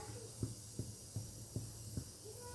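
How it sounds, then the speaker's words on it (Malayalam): Mango pickle mixture coming to a boil in a pan: a steady soft hiss with five faint, evenly spaced bubbling pops over a low hum. "ഏകദേശം തിളയ്ക്കാറായിട്ടുണ്ട്."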